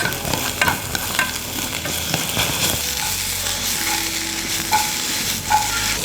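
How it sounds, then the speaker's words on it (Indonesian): Onion and garlic sauté in hot oil with a steady close sizzle, broken by scraping and clinking stirring strokes in the pan and no talk. "Lalu kita tumis bawang bombay"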